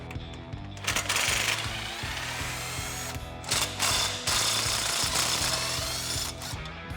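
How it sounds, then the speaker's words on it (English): Half-inch socket wrench ratcheting on the bottom shock bolts of a 1997-2006 Jeep Wrangler TJ, a close, loud run of rapid clicks in several bursts with brief pauses between strokes. "We're going to use a 1/2-inch socket and wrench to take those out."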